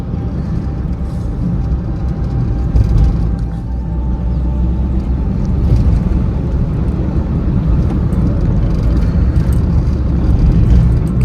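A Santro car pushes through a dense Delhi traffic jam, its engine and road rumble forming a steady, loud, low drone from the cabin with no talk.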